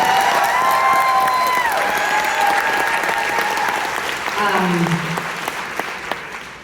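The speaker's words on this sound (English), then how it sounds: "So a massive round of applause for our friend from America with an incredible record and just such a talent." A concert crowd at a show applauds an opening artist, a loud continuous wash of clapping that holds steady and slowly tapers toward the end.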